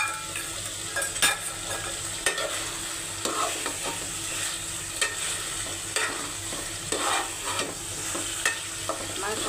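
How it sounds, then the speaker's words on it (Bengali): Fried meat sizzles in spiced masala while being stirred, a steady frying hiss punctuated by regular scraping strokes of a spoon against the pan, with no talk. "ভাজা মাংসটি ছেড়ে দিলাম।"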